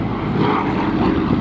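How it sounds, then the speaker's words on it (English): Douglas A-26C Invader, a twin piston-engine propeller bomber, flying past at an airshow: a loud, steady, broadband engine drone with a throbbing low rumble that holds throughout without a break, and no voices. "And here it is, the Douglas A26C Invader."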